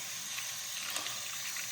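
Tap water running from a faucet into a mac and cheese cup, a steady quiet hiss of filling water, close and faint.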